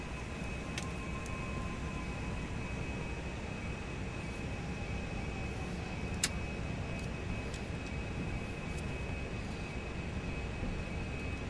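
Airliner engines hum steadily at a low, even level during a takeoff roll in a flight simulator game, with a faint constant whine above them and a few brief ticks. No one talks.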